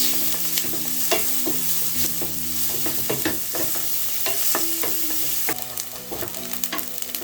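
Onions sautéing in a hot pot for chicken stew, a steady close sizzle broken by frequent scraping taps of a spoon stirring.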